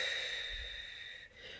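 One long, faint breath pushed out through the mouth during a relaxation exercise, a soft airy whoosh that slowly fades over a second and a half, with no talking.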